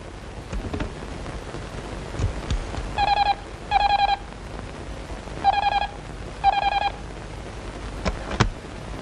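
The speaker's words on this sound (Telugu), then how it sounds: "ఒకసారి ఫోన్ చేసుకోవాలి." A telephone number is dialed in a Telugu comedy film scene: four short, evenly spaced electronic key tones in two pairs, clear over a steady rain-like hiss with occasional soft knocks and no talk.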